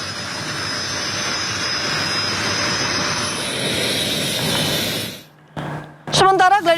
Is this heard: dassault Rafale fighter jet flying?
yes